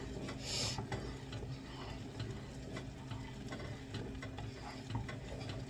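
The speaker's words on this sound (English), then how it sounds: "So I just kind of keep stirring and stirring and stirring." Chocolate fudge is stirred in a pot, producing quiet, repeated scraping strokes in a steady rhythm close by, with no talking.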